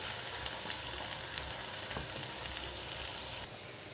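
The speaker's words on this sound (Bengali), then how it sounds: "তেজপাতা, শুকনো লঙ্কা দিয়ে দেব, জিরে দেব ফোড়নে" Bay leaf, dried red chilli and cumin seeds hit hot oil with a loud, continuous sizzle and crackle, steady and close for several seconds before easing slightly at the end.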